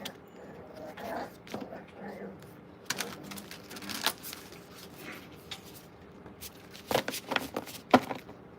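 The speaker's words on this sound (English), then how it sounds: "Last shuffle." Tarot cards shuffled by hand during a Libra singles reading, soft papery riffles and flicks in uneven bursts, growing louder and snappier toward the end, close up in a quiet room with no talk.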